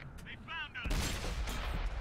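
Tank cannon fire in the World of Tanks video game: a heavy boom that cuts in sharply after a few short electronic beeps, then a sustained rumbling roar of battle noise.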